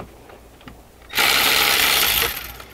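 Power tool whirring as a starter bolt is backed out on a Honda Odyssey, a loud, steady burst lasting about a second and a half close by, then trailing off.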